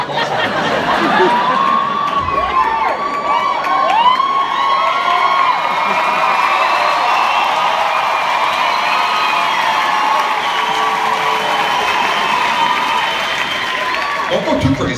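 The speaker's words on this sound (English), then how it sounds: "I think it's gonna go full applause." Comedy club audience at a Dane Cook stand-up show bursts into loud, sustained applause mixed with cheering, whoops and shouts, a roaring continuous wall of noise.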